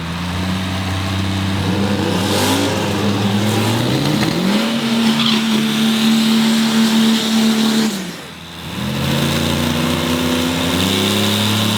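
A Diesel Pro Mod drag car roars loud and close on a test lap at the drag strip, engine revs climbing in steady stages with tire squeal from spinning tires, then a brief dip before the engine note returns.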